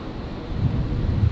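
A Cessna Citation business jet taxiing at Brisbane Airport gives a steady low engine rumble with wind noise, moderately loud and continuous, without speech.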